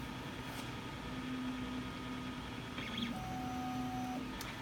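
An Ultimaker 3D printer runs its active bed leveling routine, giving a faint steady hum with brief higher motor whines and small clicks as the head probes the build plate, no talking.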